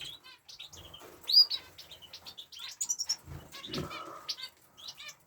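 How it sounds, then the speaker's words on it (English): A newly bought canary kept with finches and budgies chirps and tweets in quick, bright bursts, with a few short wing flutters in a small aviary, fairly close and clear, with no talking. "Also, we've got a new canary here."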